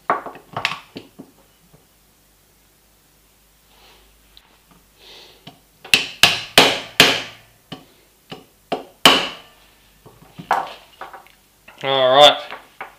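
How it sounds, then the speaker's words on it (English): Hammering a rear body pin into the receiver of an HSG V2G airsoft gearbox build: a series of sharp metallic knocks in quick bursts, close and fairly loud, with brief quiet gaps between groups of taps. "Now we need to knock this rear body pin in."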